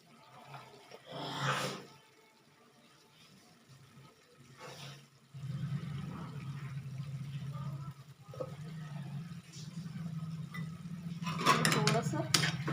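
A spoon scrapes and knocks against a pan while ridge gourd curry is stirred, soft intermittent clatter with a low steady frying hum, growing busier toward the end.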